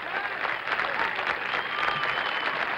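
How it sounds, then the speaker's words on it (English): Spectators applaud at the final round of the 1976 U.S. Open golf championship at Atlanta Athletic Club, a steady, moderately distant wash of clapping with a faint crowd murmur underneath. "No wonder he gets a good cheer."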